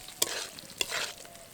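Fried vegetables are turned with spices in a pan: two sharp spatula scrapes cut through a soft background sizzle, with no voices.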